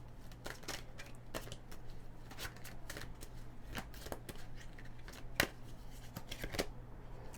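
Tarot cards being shuffled during a reading, a steady papery riffling with repeated sharp flicks and snaps, close and fairly quiet over a low constant hum, with no talking.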